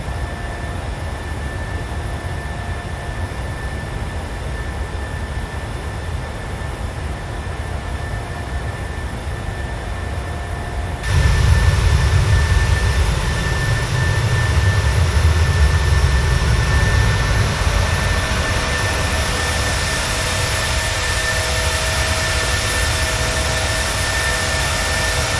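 A PMDG 737-600 airliner climbs in Microsoft Flight Simulator with a steady jet engine roar that swells sharply about eleven seconds in and holds loud and constant to the end.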